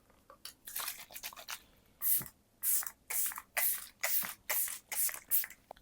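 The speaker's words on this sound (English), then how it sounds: "I'm gonna go and spray some setting spray." Makeup setting spray misted in a bridal makeup session: a series of short, close, hissing bursts, about a dozen pumps in quick irregular rhythm, with brief pauses between them and no talking.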